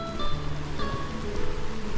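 Rain falling at a hillside campsite on Bukit Cirimpak near Bogor, a steady soft patter and hiss throughout, moderately close with no voices.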